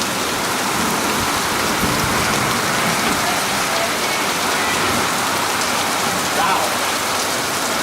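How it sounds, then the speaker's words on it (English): Torrential downpour in Kosovo roars loud and steady throughout, a dense wash of heavy rain, with one brief exclamation from a person. "This is monsoon. Yeah. Torrential downpour in an instant."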